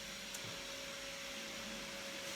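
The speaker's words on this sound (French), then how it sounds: "Je vais peut-être attendre que l'aspirateur passe parce que là, vous allez rien entendre" A vacuum cleaner drones steadily in the background throughout, a constant whooshing hum with a faint tonal whine, moderately quiet and unbroken.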